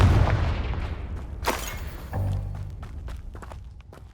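A Confringo spell explosion in the Hogwarts Legacy video game, a single sharp blast midway through, followed by a rumbling boom and scattered impacts and footsteps amid fading low-end ambience.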